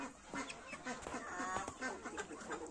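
Muscovy ducks and chickens in a farmyard flock, heard as a steady mix of soft hissing, quacking and clucking calls, moderately near and continuous throughout.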